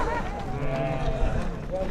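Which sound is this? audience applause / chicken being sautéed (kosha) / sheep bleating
sheep bleating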